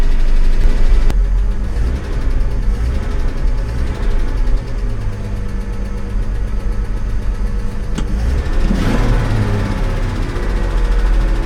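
An old vehicle's engine, brought back to the road after nearly fifteen years, idles close by with a steady, rough low rumble and faint mechanical ticking, a couple of brief knocks and clunks breaking through, no one speaking.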